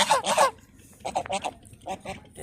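Domestic geese by a river near Itna, Kishoreganj, disturbed from sleep, give several loud, close, nasal honks in short bursts with pauses between.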